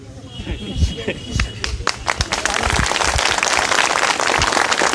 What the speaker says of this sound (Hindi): बहुत कमजोर ताली है ये